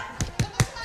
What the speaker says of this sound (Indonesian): Ya, kita tepuk semangat dulu dong.